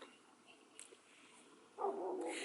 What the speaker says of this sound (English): You probably can hear dogs barking in the background.